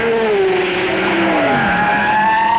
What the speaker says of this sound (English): Tony Dean nearly ends his race at Druids Bend, and Lucas in the Ford heads for his accident.